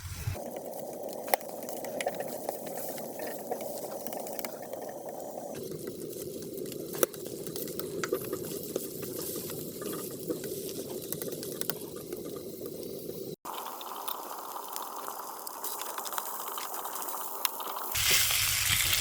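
A Wagyu beef burger patty fries on a home stove with a continuous, fairly even sizzle and crackle that shifts in intensity a few times, broken by occasional faint clicks and clatters.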